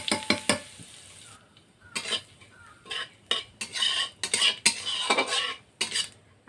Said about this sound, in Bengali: প্রথমে সরষের তেল দেব, ফোড়নে দেব কালো জিরা,